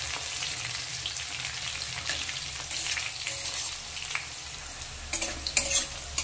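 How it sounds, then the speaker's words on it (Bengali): Onion and garlic fry in a pan as a tempering for a Bengali dhenki greens chorchori, giving a steady close sizzle with scraping stir sounds throughout and no talking. "পেঁয়াজ রসুনটা ভালো করে একটু লাল লাল করে ভাজা হয়ে গেছে।"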